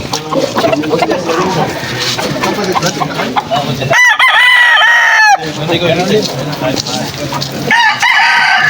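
A lemon sweater gamefowl rooster, about two years old, crows loudly and close at an outdoor pet market, two drawn-out calls breaking through a busy background of clucking birds and crowd murmur.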